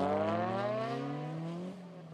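Drift race cars at a D1SL round in Maze sustain a loud, steady engine roar, pitch climbing smoothly under acceleration before a brief drop near the end, with no voices.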